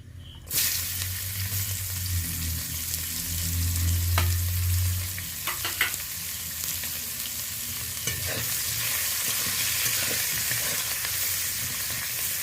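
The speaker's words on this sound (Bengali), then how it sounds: "ফোড়ন থেকে একটা সুন্দর মিষ্টি গন্ধ চলে আসছে। এই পর্যায়ে আমি পেঁয়াজটা অ্যাড করব।" Chopped onion hits hot oil already reddened with whole tempering spices and sizzles steadily, with scraping and stirring strokes from a spatula. The frying is continuous and close, with no talking, while cooking fish kalia.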